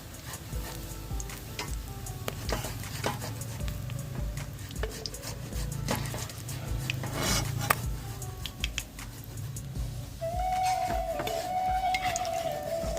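Fried egg koftas are lifted out of hot oil in a pan, bringing scattered metal clinks and scrapes of a utensil over a low, steady frying background, with a brief thin tone near the end.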